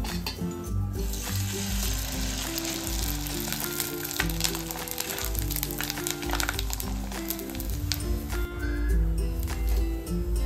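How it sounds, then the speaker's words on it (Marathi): Kurdaya wheat crisps deep-frying in oil for a Gudi Padwa festival platter give a continuous hiss with crackles and a few rustling stirs, set under prominent background music. "इथे ना कुरड्या तळून घेऊयात।"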